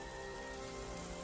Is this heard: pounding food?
no